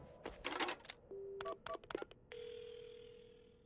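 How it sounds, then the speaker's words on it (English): Telephone being dialed to call an ambulance in the PARANORMASIGHT video game: a few clicks, then a short series of quick dial tones, followed by a steady ringing or line tone that continues, faint and without talk. "Right, the phone. I gotta call an ambulance."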